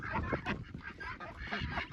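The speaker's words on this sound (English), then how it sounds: "Some beautiful ducks over here." Farmyard ducks and geese honking and quacking together in a busy, overlapping chorus, fairly close, with no talking over it.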